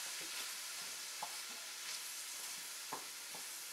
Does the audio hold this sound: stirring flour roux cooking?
yes